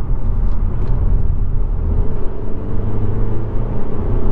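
SEAT Ateca car picking up speed, heard from inside the cabin as a steady, loud low engine and road rumble that holds evenly throughout.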